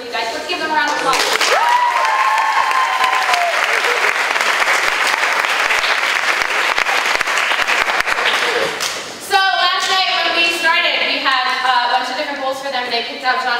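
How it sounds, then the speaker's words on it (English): Audience applause for actors about to perform a rehearsed show, loud sustained clapping from a crowd with cheering voices mixed in, continuing throughout. "Let's give them a round of applause."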